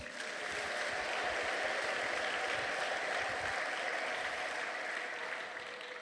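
A church congregation claps together during a worship service, a dense, sustained wash of applause that holds steady for several seconds and fades slightly at the end, heard somewhat faintly with no speech over it.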